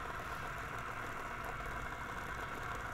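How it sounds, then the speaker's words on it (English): Steady, dense freeway traffic roar with a low engine rumble, continuous and fairly distant, with no distinct passing vehicles standing out. "Sounds like the freeway, actually."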